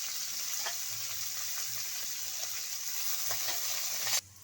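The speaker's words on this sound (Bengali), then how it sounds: "এবার আমি কপির ডাঁটাগুলো দিয়ে দিচ্ছি ফোড়নের মধ্যে। ডাঁটাগুলো দিয়ে আমি হালকা করে ভেজে নেব" Cauliflower stalks frying lightly in a pan of tempered spices, a continuous bright sizzle with occasional stirring scrapes, close and steady until it stops suddenly near the end.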